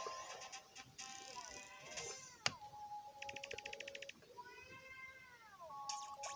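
A cat creature in a dungeon-crawling video game gives several synthetic, pitch-sliding meows, mixed with bright electronic beeps and a sharp click midway, all fairly quiet.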